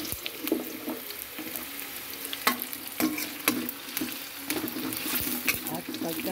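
Onions fry in a pan for chicken caldereta, a steady sizzle broken by frequent stirring scrapes and clinks of the spatula against the pan.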